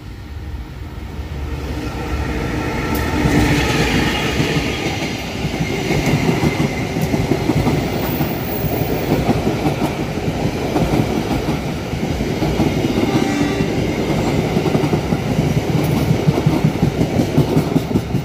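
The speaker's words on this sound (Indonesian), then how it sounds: "kereta komuter lain Bandung Raya persiapan masuk stasiun Haur Pugur" A Bandung Raya commuter train rumbles steadily into Haurpugur station, wheels clattering in a continuous clickety-clack over a low mechanical drone, loud and close throughout.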